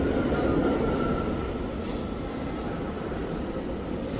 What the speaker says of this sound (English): This is the middle of the subway.